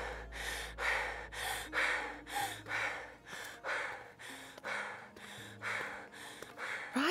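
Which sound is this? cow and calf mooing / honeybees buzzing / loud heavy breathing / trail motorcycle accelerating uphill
loud heavy breathing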